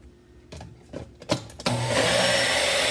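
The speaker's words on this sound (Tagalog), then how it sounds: "Tapos, blend ulit." Ginger goes into a blender for a ginger, garlic and honey juice. A few knocks and clatters come first, then the motor starts and runs in a loud, steady whir, with no talking.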